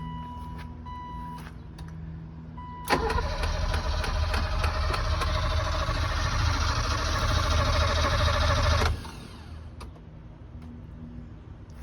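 A barn-find BMW E30 left abandoned for 30 years fires up on a jump start, its engine running loud and steady for about six seconds before abruptly shutting off, with a quiet idle hum on either side.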